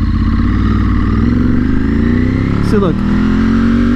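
A Ducati motorcycle under repair, with a fault under heavy throttle, runs loud and close with a steady engine note that rises in pitch as it revs, while a voice speaks briefly over it.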